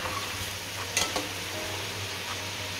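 Chicken sizzles steadily in a karahi for white chicken karahi, with a couple of sharp scrapes from a stirring utensil against the metal partway through.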